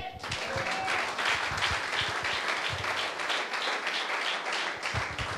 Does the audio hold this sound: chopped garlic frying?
no